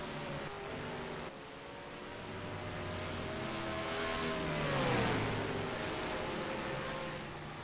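A race car in a racing video game rolls down pit lane, its steady engine drone rising and sweeping in pitch around the middle before settling, with broad road and wind noise throughout.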